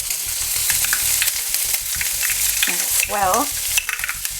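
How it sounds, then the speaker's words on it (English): Onions and garlic fry in a pan with a busy, continuous sizzle and crackle while they are stirred, close and loud. A brief spoken remark rises over the frying near the end. "we're gonna put the onions and fry them too. And we can also put the garlic"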